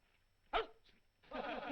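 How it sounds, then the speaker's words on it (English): A single sharp dog bark rings out close by, followed by a brief faint whimper and then a stretch of noisy rustling. "That certainly is an intelligent dog you have, Mr. Rogers."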